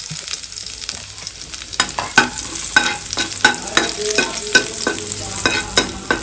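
Crushed garlic fries in a hot pan, crackling steadily while a utensil scrapes and stirs it in repeated sharp strokes, loud and close with nobody talking.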